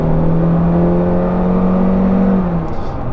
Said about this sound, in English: And now I have the advantage of flooring it.